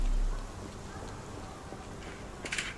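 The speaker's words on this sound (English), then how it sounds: "This dreary rain is making a miserable day even worse." Video game rain, a steady soft hiss of falling drops with a low thud at the start and a brighter burst near the end, with no talk.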